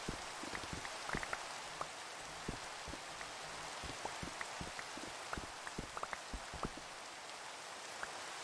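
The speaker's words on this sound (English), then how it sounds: "I could just take it somewhere where it doesn't freaking rain." Steady Minecraft rain hisses evenly throughout, dotted with many scattered sharp drop ticks; a continuous moderate wash with no voices.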